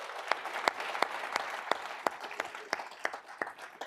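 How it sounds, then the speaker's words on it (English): Conference audience applauding steadily for four seconds, a dense wash of clapping punctuated by regular sharper claps from nearby hands, with no speech. "Let's give them a round of applause."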